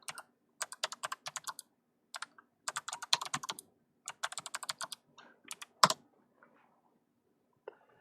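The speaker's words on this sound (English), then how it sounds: "So we're just going to hit enter, and we're just going to paste that command here onto the terminal." Typing on a computer keyboard in a quiet room, several close bursts of rapid key clicks separated by short pauses, ending with a single heavier keystroke.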